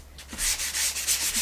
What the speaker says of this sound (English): So I'm going to take my sanding disc, just knock them down.